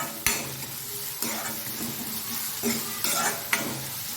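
Chopped onions frying in a pan sizzle steadily at close range, broken by several clattering stirs of a utensil against the metal every second or so.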